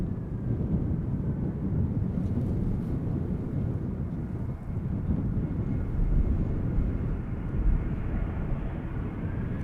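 Lufthansa airliner at Amsterdam Schiphol Airport, a steady low rumble of engines held at a distance across the whole stretch, broad and even with faint wind buffeting.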